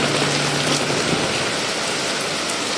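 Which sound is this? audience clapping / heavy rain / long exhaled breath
heavy rain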